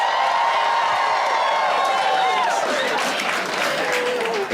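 A comedy club crowd in Denver applauds and cheers loudly and continuously, with dense clapping, whoops and shouting filling the room throughout.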